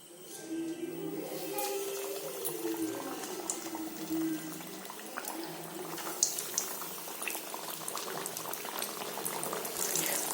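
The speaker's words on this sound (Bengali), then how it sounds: "এগুলোকে হালকা রাউন্ড রাউন্ড করে ভেজে নিচ্ছি" Chicken pocket chops deep-frying in soybean oil in a kadai, giving a steady, continuous bubbling and crackle that holds for the whole stretch at moderate loudness.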